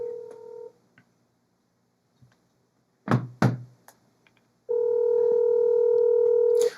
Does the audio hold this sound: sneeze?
no